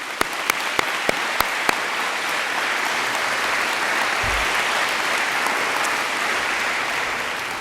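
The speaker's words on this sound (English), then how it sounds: "Please give them one more round of applause." At the O'Neill School sports recognition ceremony, an audience gives student athletes a sustained round of applause, broad and even throughout, opening with a few sharp, distinct claps close by.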